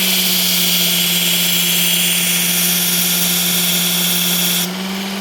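A Work Sharp Ken Onion electric sharpener grinds a hard HCR steel knife blade with a loud, steady whine and motor hum, running unbroken for several seconds before the pitch shifts slightly near the end.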